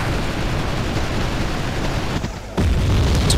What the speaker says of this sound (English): they are lobbing grenades